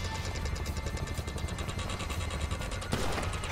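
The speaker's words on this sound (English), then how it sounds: "Shooting these guys with a shotgun." Shotgun fire in the video game GTA 5, with rapid, closely spaced blasts in a dense, rattling run that is loud and nearly continuous, and a heavier burst near the end.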